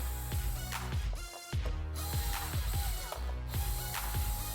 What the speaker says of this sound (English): normally in the MEN models only need to unscrew the two screws on the back